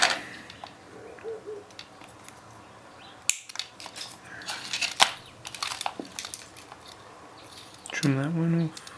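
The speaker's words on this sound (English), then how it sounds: "I can just trim these off." Wire cutters snip off excess wire ends during a drone flight controller and receiver build, giving a few isolated sharp clicks amid quiet handling noise, with a voice speaking near the end.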